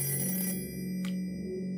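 A video game telephone rings: a bright electronic trill holds for about half a second, then a short burst rings again after a pause, all over a sustained low musical drone.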